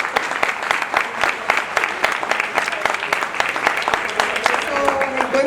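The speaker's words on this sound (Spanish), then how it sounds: "Un aplauso para la compañera que viene muy bien." Political rally crowd applauding speaker Sira Rego at an Izquierda Unida gathering in La Paz, Sanlúcar de Barrameda: dense, sustained clapping with sharp individual claps, loud and continuous throughout.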